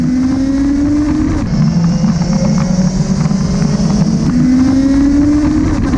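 A Kawasaki Versys motorcycle lapping the dry Cadwell Park circuit: a loud, continuous engine drone that rises and falls with gear changes, heavy wind rush over the microphone, no voices.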